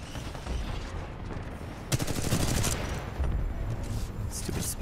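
Rapid gunfire bursts from the video game Titanfall 2, fairly quiet, with a louder cluster of shots near the middle under a busy game soundscape.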